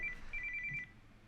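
A phone ringtone chirps in a repeating electronic pattern for about a second, then cuts off abruptly as it is silenced.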